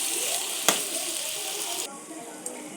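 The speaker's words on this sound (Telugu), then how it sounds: "ఉల్లిపప్పు వాసన పోయి బ్రౌన్ కలర్లోకి వచ్చేంత వరకు ఫ్రై చేసుకోవాలి" Onions frying in a pan until browned, a steady close sizzle broken by a sharp utensil click, then dropping to a quieter hiss with one more light tap.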